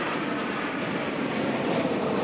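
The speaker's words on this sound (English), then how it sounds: "Here's a Jetstar coming in from Christchurch." Jetstar passenger plane arriving at Auckland Airport from Christchurch, a steady broadband jet roar that is fairly loud and continuous, with no talking.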